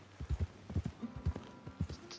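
Hooves of a horse in the Red Dead Redemption video game, a steady rhythmic clip-clop of repeated paired strikes, clear and fairly close with no talk over it.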